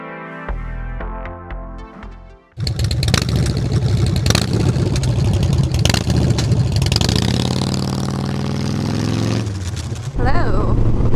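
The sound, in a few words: Harley motorcycle engine while riding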